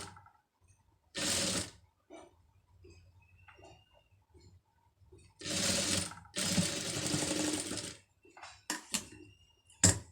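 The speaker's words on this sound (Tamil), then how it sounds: "இப்போ அடுத்தது வந்து இன்னொரு தையல் வந்து அதில் கரெக்டாக போட்டுருவோம்" A sewing machine stitches a layer of fabric in several bursts, one short run, then longer runs and a few quick stabs, close and clear with quiet pauses between.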